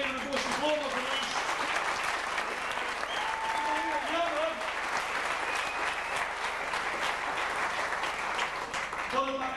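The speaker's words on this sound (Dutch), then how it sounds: "Laten we even een applaus voor deze meisjes." A large audience at a 50th-anniversary celebration of a Dutch football club gives sustained, dense applause lasting several seconds, with crowd voices mixed in underneath.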